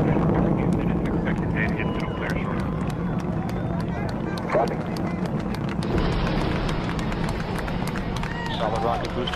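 Space shuttle Discovery's engines throttling up during launch, a heavy, constant rumble with sharp crackling bursts on top, while people talk over the noise.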